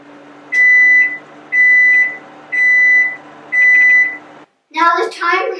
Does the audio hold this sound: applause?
no